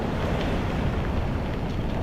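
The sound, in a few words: big ocean waves breaking in hurricane wind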